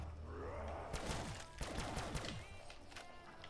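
Gunfire from Call of Duty Black Ops 3 Zombies, with a burst of sharp shots clustered in the middle of the clip over steady game background noise.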